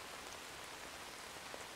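Steady rain falls outdoors during a landscape photography outing, a dense, even hiss of drops with faint scattered patters and no voices.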